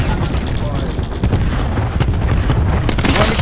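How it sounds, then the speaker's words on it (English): Cluster grenade going off in Black Ops 4 Team Deathmatch on the Firing Range map, a dense rumble of booms and bursts running without a break through the clip, with game voice chatter mixed underneath. "Cluster grenade."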